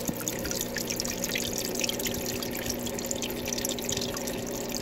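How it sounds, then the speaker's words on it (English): An aquarium waterfall pours from an adjustable filter, a steady close splashing and trickling with no pauses. "I've got myself a waterfall on this end, and this is an adjustable filter, so I can actually adjust the flow of this waterfall"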